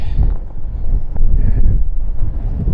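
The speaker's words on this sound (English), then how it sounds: "Wow, that is really windy." Strong wind on a Lake District fell hike buffets the microphone in a steady low roar with gusty surges throughout, no voices.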